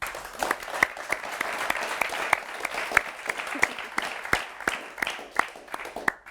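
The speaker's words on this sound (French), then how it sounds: "Et puis on peut encore l'applaudir." A modest audience at a student TV news show applauds, with a fairly quiet, steady patter of clapping marked by a few sharper individual claps over several seconds.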